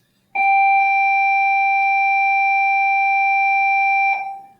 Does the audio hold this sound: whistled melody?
no